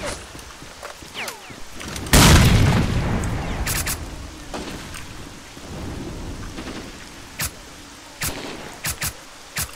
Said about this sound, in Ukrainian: цей вже гранату кидає.